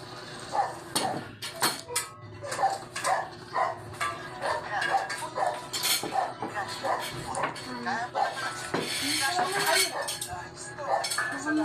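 Dishes, plates and cutlery clatter in repeated clinks and knocks while a dinner table is set with rice, close and fairly loud, with people talking throughout and a dog barking briefly.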